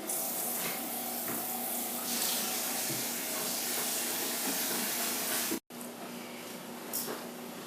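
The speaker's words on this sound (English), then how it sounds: "Now is just wash this off a little bit" A cutting board is rinsed under a running kitchen tap, giving a steady, close rush of splashing water that breaks off for a moment and then resumes, with no voices.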